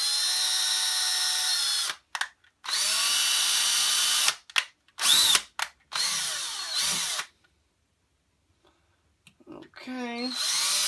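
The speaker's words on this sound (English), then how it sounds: "I am going to drill out the quick coupler on the model, so that we can put a new bucket on" A small power drill with a 1/16 bit bores out the quick coupler on a 1/50 scale Cat 330/320 excavator model, running in loud, close whining bursts separated by short pauses and near-silence.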